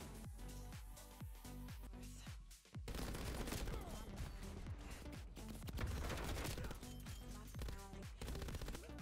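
MG82 machine gun in Black Ops Cold War firing in long, loud, continuous bursts, a dense rapid rattle with heavy booming low end and brief gaps between strings of shots.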